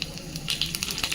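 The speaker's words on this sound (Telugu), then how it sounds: "ఆవాలు జీలకర్ర వేసేసుకొని ఎండుమిర్చి వేసుకుందాం" Mustard seeds, cumin and dried red chillies spluttering in hot oil in a steel pot, a brief burst of crackling pops over a low sizzle, close by.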